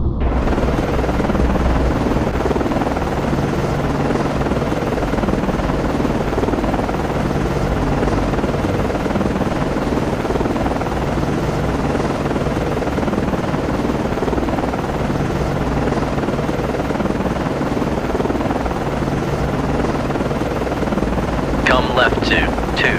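Helicopter rotor noise, loud and continuous, sits over a steady low ship rumble as an aircraft lands on a destroyer in the Cold Waters naval game, with brief radio-style chatter near the end.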